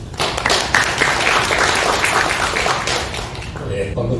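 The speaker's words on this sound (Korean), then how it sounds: "여러분, 강민국 교수님을 박수로 챙겨주시면 고맙습니다" An audience at a forum applauds a professor being introduced, steady clapping from a seated crowd that swells at the start and fades away near the end.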